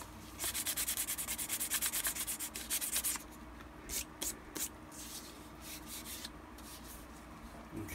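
Sandpaper rubbed over a plastic armor shin piece to rough up its coating, a fast rhythmic series of close scratchy strokes followed by a few slower, scattered rubs.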